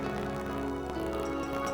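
Heavy rain falls on the road course at the 1989 World Cycling Championships, an even, constant hiss throughout with no clear voices.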